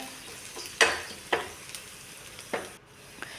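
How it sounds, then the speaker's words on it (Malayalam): Spices and asafoetida frying gently in oil over a low flame, with a few distinct stirring scrapes and light crackles over a soft, steady sizzle. "എല്ലാം കൂടി ഒന്ന് ചെറുതായിട്ടൊന്ന് മൂപ്പിച്ചെടുക്കാൻ ലോ ഫ്ലെയിമിൽ വെച്ചിട്ട്"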